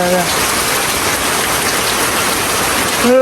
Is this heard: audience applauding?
no